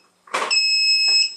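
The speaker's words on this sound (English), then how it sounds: "that alarm tells me that I now have to shake it" Closer to Nature Perfect Prep baby formula machine sounding its alarm: a brief burst of noise, then a steady, close electronic beep of pure stacked tones held for about a second, with a faint second burst near the end.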